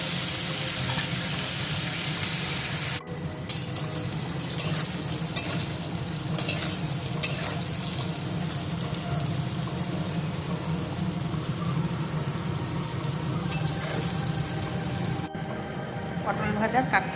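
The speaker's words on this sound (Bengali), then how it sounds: "সিম্পল ফ্রাইড রাইসের সঙ্গে আমি গোটা গোটা পটল ভাজা করে নিচ্ছি" Whole pointed gourds fry in a wok under a continuous dense sizzle with occasional stirring clinks and a faint running-water wash behind, cut by two brief breaks.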